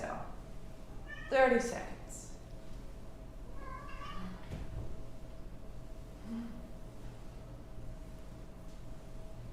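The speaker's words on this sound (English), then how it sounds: "Oh, the cats are absolutely ramped up." Cats meow on Christmas morning: one loud meow near the start, then a fainter one a few seconds later, heard over a steady low hum with a voice talking quietly.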